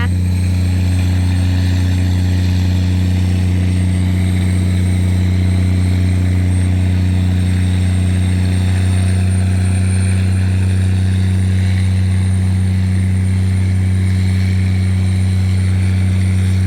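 A tugboat on the Chao Phraya River tows four heavily loaded cargo barges, its engine giving a loud, steady low drone with a constant hum that continues unbroken throughout, with no voices.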